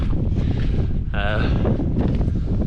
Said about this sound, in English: The wind's picked up a tiny bit, but not massively.